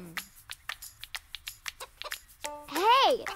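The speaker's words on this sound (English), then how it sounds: "Hey, the chicken is eating pebbles." A chicken pecks and eats small pebbles, giving a quick run of sharp tapping pecks, followed by a short clucking call near the end.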